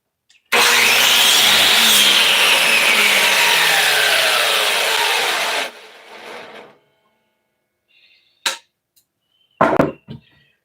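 A miter saw winds up with a loud whining motor and bites through wood for about five seconds, then spins down, followed by a few sharp knocks and clatters of handled boards.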